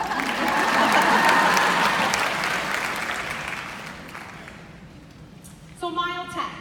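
A leadership summit audience keeps clapping, loud at first then gradually thinning and fading, before a speaker's voice comes in clearly near the end.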